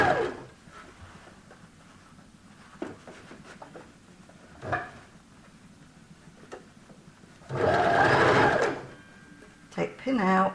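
Sewing machine stitching a seam on a nurses' scrubs top, with a quiet stretch of light handling and fabric noises before a loud whirring burst of stitching, then a short second burst as a voice talks.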